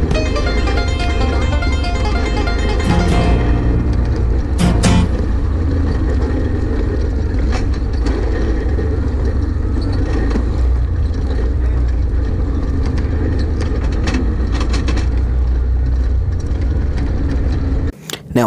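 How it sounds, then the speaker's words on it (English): A CJ5 four-wheel-drive rig with a bent skid plate driving down rocky Lion Hill in Ophir, Utah; a loud, continuous rumble of engine and rough terrain with intermittent harsh scraping and clunks throughout. "if you hear loud scratching, that is the skid plate"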